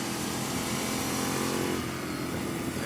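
A 2012 Ducati 848 EVO Corse SE V-twin motorcycle is ridden at steady speed, its engine droning loud and continuous, mixed with heavy wind rush.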